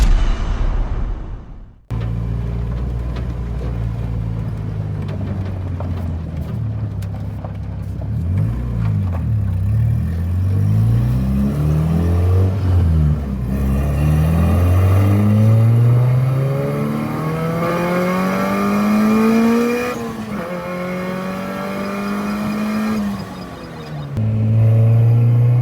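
A turbocharged 2024 Honda Civic engine revs repeatedly during tuning, its pitch sweeping up and down in several long, rising pulls, loud and close, with no voices.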